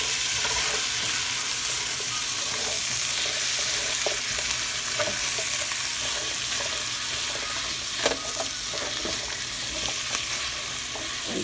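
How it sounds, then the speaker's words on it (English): Carrots, celery and pepper frying in a pan for Japanese curry, a steady close sizzle with faint stirring clinks and scrapes throughout, no talking. "And then the vegetables, carrots, celery, and pepper. Just throw that in there."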